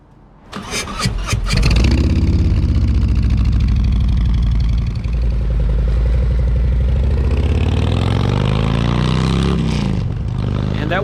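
A motorcycle engine cranks over, catches with a few sharp bursts, then settles into a steady, loud, close idle that holds to the end before briefly dipping.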